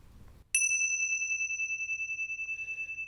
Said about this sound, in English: And to begin the meditation, I shall sound the bell.